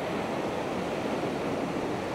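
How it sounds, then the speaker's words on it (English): Steady, loud roar of wind buffeting the microphone with surf mixed in at Ao Manao Beach, Prachuap Khiri Khan, Thailand, a constant broadband rush and no pauses. "And it's so windy, I hope this wind doesn't come through."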